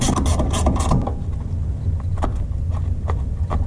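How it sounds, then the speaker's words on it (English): A brake caliper pin bolt on a 2015 Suzuki Jimny being refitted and tightened, metallic tool clicks and scraping up close, busy at first and then settling into sparse ticks and small knocks. "Put my caliper pin bolt back."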